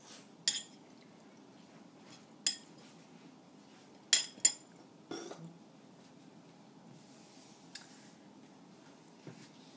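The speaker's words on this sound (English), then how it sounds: "and our tomato, and just gently fold those through" Ceviche of lime-cured fish with tomato and spring onions being gently folded in a bowl, giving a few scattered soft clinks and scrapes of a utensil against the dish, close and quiet, with no talking.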